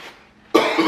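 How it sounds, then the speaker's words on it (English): A man coughs sharply over food, a sudden loud burst after a quiet moment, followed by a rough throat-clearing rasp close to the microphone. "Why do you keep coughing in my food?"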